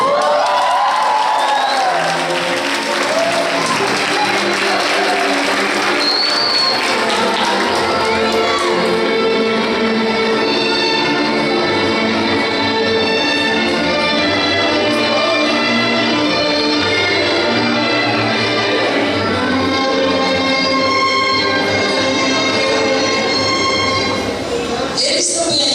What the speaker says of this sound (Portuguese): Com nossos aplausos, Lucas e Juliana.